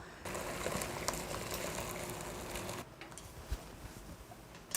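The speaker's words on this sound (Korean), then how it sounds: "육수에 다시마하고 멸치 넣고 육수 끓여놨거든요" Anchovy and kelp broth boiling in a pot, a soft continuous bubbling that cuts off abruptly partway through, leaving quiet room tone with a few faint knocks.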